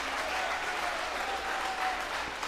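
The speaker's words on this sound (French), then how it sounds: "Hey, tout le monde applaudit." Crowd applauding steadily at a public gathering, a dense continuous wash of clapping held at an even level throughout.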